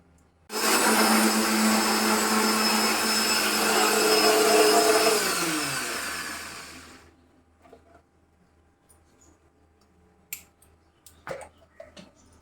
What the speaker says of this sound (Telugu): దీన్ని మిక్సీ చేద్దామండి.